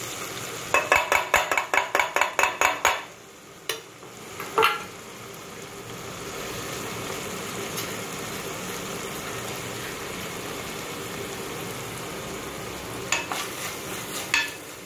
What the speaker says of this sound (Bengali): পেঁয়াজটাকে একটু ভাজা ভাজা মতন করে নেব